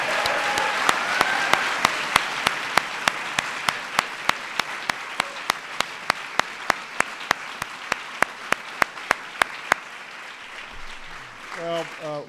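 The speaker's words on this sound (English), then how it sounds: "Let's give them a big round of applause again." Audience applause for honorees at a White House Arts and Humanities Medal ceremony, a sustained dense roar of clapping lasting about ten seconds with sharp camera shutter clicks throughout, then fading as a voice begins speaking.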